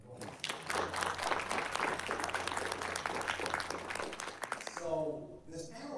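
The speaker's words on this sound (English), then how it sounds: "Let's give them a round of applause" A summit audience gives a round of applause, steady clapping from a crowd lasting several seconds, with voices mixed in and someone speaking over the end as it fades.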